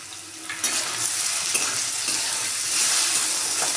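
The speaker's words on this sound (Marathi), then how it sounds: "बटाटा चांगला फ्राय करून घ्यायचा आहे तेलामध्ये।" Potato pieces for sabudana khichdi fry in oil with salt, a continuous hissing sizzle that swells slightly toward the end, with a couple of stirring knocks, close and steady without talk.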